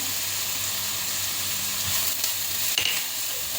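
Garlic sizzles in a hot pan for Spaghetti Bolognese, a close, steady crackling hiss with a few light clicks and stirring scrapes.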